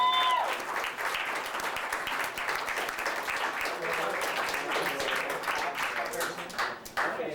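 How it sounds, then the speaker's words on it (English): An audience at a poetry reading in a cafe gives a warm burst of applause, many hands clapping densely and steadily for several seconds, with a few faint voices mixed in. "Please keep clapping for David Anson"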